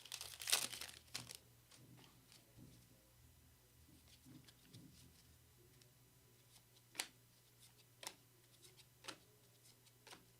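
Trading card packs from an NFL break being ripped open by hands in large gloves, giving a sharp crinkling tear near the start, then scattered quieter crackles and a few isolated ticks over a low steady hum.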